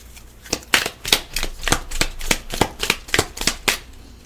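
Affirmation cards are shuffled in a fast, steady riffle, about a dozen crisp close slaps with no talking.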